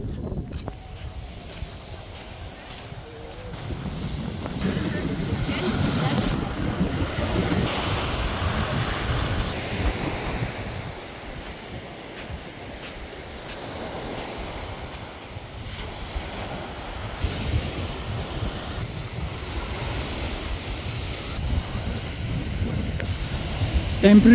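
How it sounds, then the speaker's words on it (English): Waves break and wash ashore at Cleopatra Beach in Alanya, Turkey, with steady surf and gusting wind buffeting the microphone, a continuous loud seaside roar. "Now we are in Alanya, famous Cleopatra beach."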